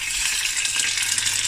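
Oxtail sizzles and fries in a pan over high heat, a steady, dense crackle that runs close and unbroken throughout.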